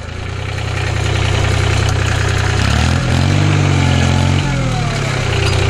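A subcompact tractor engine runs steadily, loud and close, while pushing a homemade plow; its low drone holds even at first, then its pitch and load shift in the middle before settling back.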